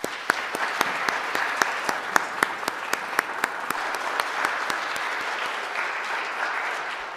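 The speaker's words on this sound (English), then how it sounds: "So I'd like to give them all a nice round of applause." A church congregation applauds a group of kids during a livestreamed parish gathering, with one or two sharp, close, rhythmic claps standing out over the steady crowd clapping.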